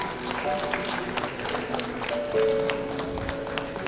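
A crowd applauds at a management institute's annual convocation ceremony, a steady wash of clapping that fills the hall with faint tones in the background.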